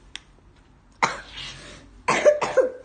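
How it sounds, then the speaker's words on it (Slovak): A person coughs right after eating a blue candy: a faint tick, then a rough hacking cough, and a moment later a closer double cough, each burst short and harsh in an otherwise quiet room. "Čo kašleš?"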